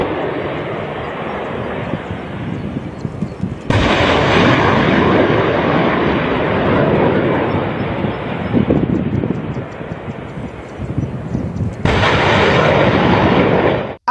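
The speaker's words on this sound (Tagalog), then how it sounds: "muling isinagawa naman ng sundalong Hapon at Amerikano ang pagpapaputok ng missile sa East Fuji Maneuver Area" HIMARS rocket launchers fire missiles in a joint Japanese and American drill at the East Fuji Maneuver Area, two loud, roaring launch blasts with long, sustained rushing thrust that fades between them.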